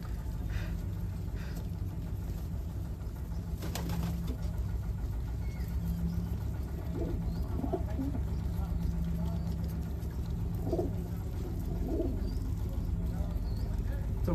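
Racer and giribaz pigeons coo softly at a pigeon farm in Shibganj, Chapainawabganj, with scattered low calls sitting inside a constant loud hum of engine and traffic noise.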